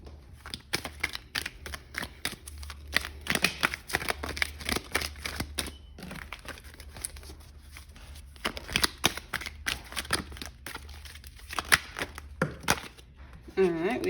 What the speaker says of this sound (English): So let's just pull a card.